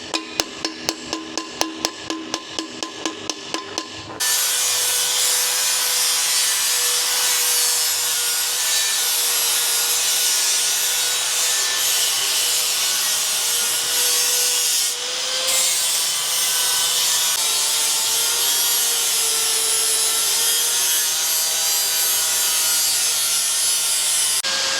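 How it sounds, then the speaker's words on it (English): An angle grinder strips old coating from a Ford Ranger chassis, giving a loud, continuous abrasive whine that runs nearly unbroken after a brief rhythmic scraping start, with no talk over it. "on the grinder doing what he needs to do"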